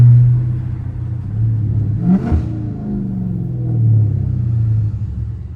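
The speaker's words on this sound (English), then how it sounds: "Them downshifts mean as a bitch." A 500hp Scat Pack car rumbles at low revs, then a quick blip near the middle marks a downshift before the engine settles back into a steady, close drone.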